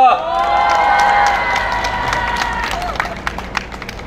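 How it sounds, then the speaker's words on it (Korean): A rally crowd welcomes a National Assembly member with loud cheering and a sustained shout up front, then settles into scattered, thinning claps over about four seconds. "큰 박수로 환영합니다"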